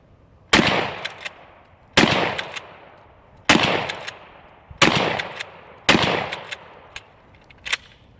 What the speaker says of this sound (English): And here's Anthony with a shotgun that always works.